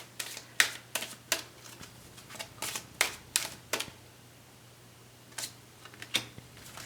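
Tarot cards being shuffled and snapped by hand, a run of sharp crisp flicks and riffles in uneven bursts, close, over a low steady hum, with no talking.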